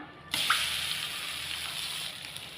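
Grated raw mango drops into hot sesame oil in a kadai, setting off a sudden loud hiss that settles into steady, close frying sizzle.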